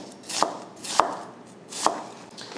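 Knife slicing onion and sausage thinly on a cutting board, three crisp separate chops with pauses between them, close and clear with no talking.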